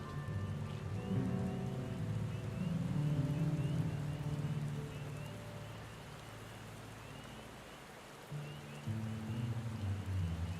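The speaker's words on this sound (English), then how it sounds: "It's raining." Steady in-game rain in the video game Dawntrail hisses continuously under a low rumbling drone, with a brief dip and return near the end; no voices.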